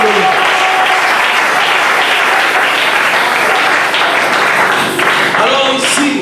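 Loud, sustained applause fills a church service in honour of the Lord, the clapping steady throughout with faint voices mixed in.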